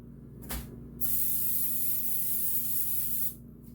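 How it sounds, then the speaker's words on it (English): A short spritz, then a steady hissing spray lasting over two seconds from an aerosol can of cooking spray onto a pan, close up, with a low hum behind it. "you kept putting spray on pan"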